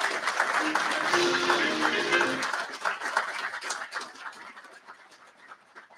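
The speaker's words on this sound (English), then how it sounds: "Ladies and gentlemen, if we give one more round of applause for Mr." An awards ceremony audience claps in a dense burst that holds for a couple of seconds, then thins out and fades as scattered claps trail off, with a voice briefly heard under it.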